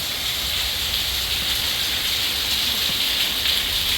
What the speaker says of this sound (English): The big rainstorm.